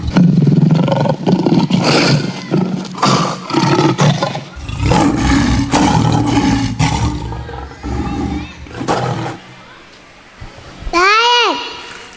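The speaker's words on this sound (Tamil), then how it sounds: "சிங்கம் கர்ச்சிக்கும் போது குழந்தைகள் பயம் பெறும்" A lion roar plays loudly over a preschool festival gathering with 150 young children; long rumbling bursts come close together, children's voices chatter throughout, and a rising-falling tonal sweep ends it.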